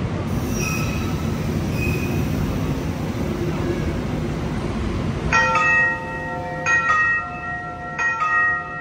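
A train pulls into Tugu railway station in Yogyakarta, Indonesia, with a steady rumble of carriages and then loud, piercing wheel squeals in repeated bursts as it brakes to a stop.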